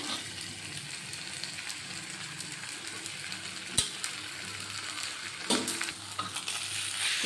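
Potatoes, pointed gourd and fried soybeans get stirred into spiced masala in a pan, giving a soft continuous sizzle with occasional spatula scrapes and knocks, close and fairly quiet.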